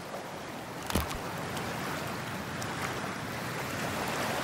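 A splash into freezing water in the video game Cyberpunk 2077: one short, close plunge rises briefly out of a steady wash of sea and wind noise, which then continues alone.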